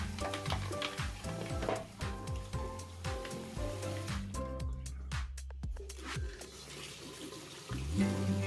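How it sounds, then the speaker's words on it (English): Running tap water rinsing the detergent drawer parts of a Samsung washing machine under a sink faucet, a steady splashing stream with plastic pieces knocking and clattering as they are handled. "Wash all parts under running water"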